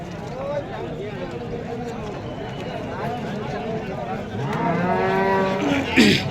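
Cows and calves at a busy cattle market low and moo repeatedly, several calls rising near the end, amid constant crowd chatter and people talking nearby.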